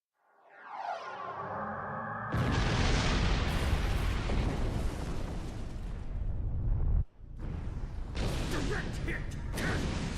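Starship weapons fire and explosions in the Star Trek Online space combat game: a rising whoosh, then a loud sustained roaring barrage of blasts that cuts off briefly before another heavy volley of booming impacts.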